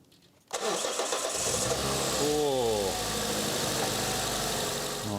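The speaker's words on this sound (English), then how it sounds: "you can hear the timing chain needs to be replaced, along with the hydraulic cam lifters" A worn Toyota Corolla engine with 300,000 km, a failing timing chain and tired hydraulic cam lifters cranks and catches after a short silence. It then settles into a loud, steady, rattly idle up close.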